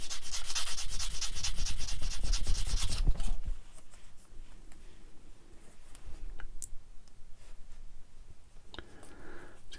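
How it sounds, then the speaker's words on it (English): Steady abrasive rubbing of a metal file taking the rest of a rivet off a Tamiya 1/12 Honda RC166 scale model, close and loud for about three seconds, then quieter intermittent scraping and small clicks. "just file the rest of the rivet off and polish up"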